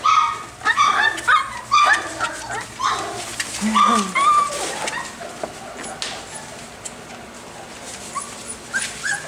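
Several puppies yip and bark in quick, high bursts, mixed with whimpers, fairly close, while a person talks softly in between.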